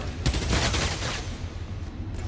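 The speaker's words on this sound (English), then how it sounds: "Wait, who's shooting at me?" Gunfire from enemies in the video game Spider-Man: Miles Morales, a dense loud burst of rapid shots at the start that settles into a steady rattling barrage throughout.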